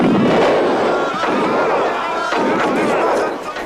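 Cannons fire grape shot in a battle scene from a 1984 George Washington miniseries. Loud booming blasts merge into a dense, rumbling din, with shouted voices over the noise.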